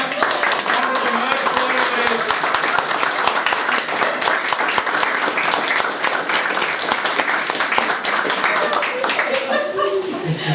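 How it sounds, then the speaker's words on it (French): An audience applauding with dense, continuous clapping that stays loud and steady throughout, with a few voices audible over the clapping. "je vais vous demander un grand applause"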